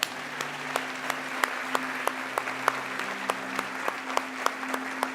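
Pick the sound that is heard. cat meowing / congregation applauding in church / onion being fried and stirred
congregation applauding in church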